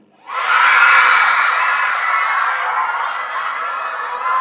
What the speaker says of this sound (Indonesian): Kok kamu yang teriak-teriak,